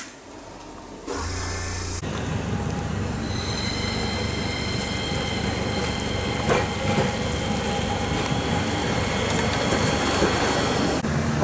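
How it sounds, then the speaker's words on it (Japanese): Hakodate streetcar running, a two-car tram arriving at the end-of-line terminus, with loud rumbling wheels, metallic squeals and rail clatter close by, sustained throughout with no talk. "って言ってたらこの路面電車が来たな。"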